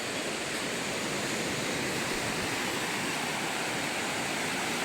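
Water of the Kamla River rushes beneath an old bridge in the early morning, a loud, steady broadband roar that stays constant throughout with no voices.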